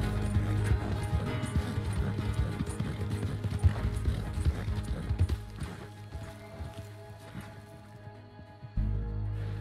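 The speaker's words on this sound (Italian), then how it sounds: "Vai, cavallo!" Horse galloping in the video game Red Dead Redemption 2, with steady, loud clip-clop hoofbeats throughout and a rumbling game soundscape beneath them, easing off slightly near the end.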